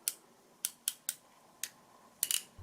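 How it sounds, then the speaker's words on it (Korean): A wire crimping clamp presses a ring connector onto a stripped wire for a homemade camping power bank, making a quick series of sharp, close metallic clicks that end in a quick cluster of snaps. "와이어 클램프를 사용해서 클램프 한 다음에"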